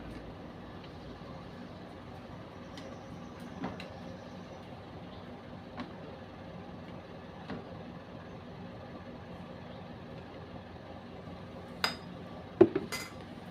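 A spoon places oyster sauce into a bowl, making a few faint clinks and taps against the dish over a quiet background hum. Two sharper clinks come near the end.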